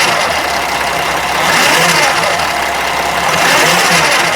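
A Sprinter van engine with a fault that makes it sound bad, running close by and revving up in two swells from a rough idle, with a low uneven drone underneath.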